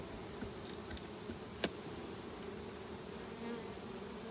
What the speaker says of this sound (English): Wow, this hive is filled with bees.